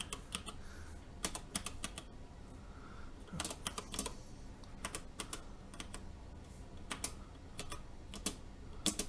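Keys on a Sweet16 mechanical macro pad keyboard are pressed in sharp, irregular clicks, a few quick taps at a time with short gaps, close and fairly quiet.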